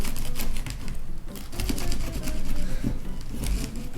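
A knife saws through a loaf of bread cut for homemade Thanksgiving stuffing, making steady, close, scratchy crunching strokes with short crackles of crust throughout.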